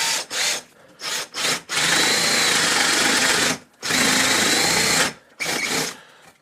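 A power drill with a Speedbore spade bit bores a door handle hole in a door, loud and close, with short bursts followed by two sustained runs of grinding, cutting noise.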